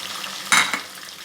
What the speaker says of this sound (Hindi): प्याज को फ्राई करेंगे हम।